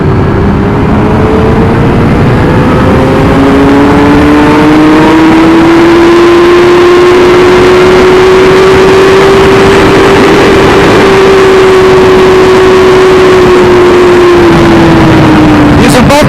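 A 2017 Suzuki GSX-R1000R ridden at speed, its engine a steady loud drone under heavy wind roar. The tone holds and then sinks near the end as the bike slows under front and rear braking.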